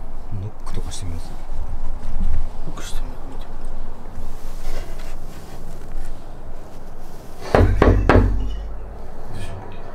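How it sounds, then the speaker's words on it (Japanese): A knock on a surface inside a building sounds loud and close near the end, a quick pair of raps, while people talk in hushed voices throughout. "ノックとかしてみます。"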